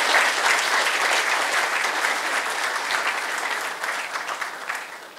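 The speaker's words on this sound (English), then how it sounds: "can we have a loud round of applause for our speaker of the day?" A lecture audience applauding the day's speaker, dense steady clapping from a sizable crowd that slowly thins out toward the end.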